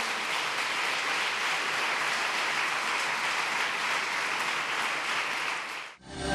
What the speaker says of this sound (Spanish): ¿Puede dar una ofrenda de palmas al Señor?